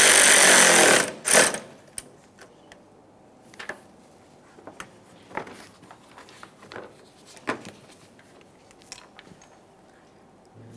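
Power tool snugging mounting hardware on a Jeep Grand Cherokee headlight bracket, a loud burst of whirring at the start followed by a few short, sharp taps and clicks of work at close range.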